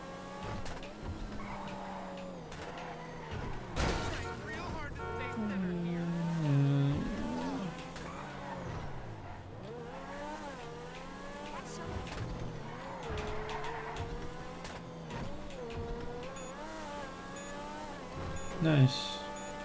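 An X80 Proto race car in a racing video game revs and shifts through a time trial, its engine pitch sweeping up and down over turns with occasional tire squeals and brief impacts, while a voice talks throughout.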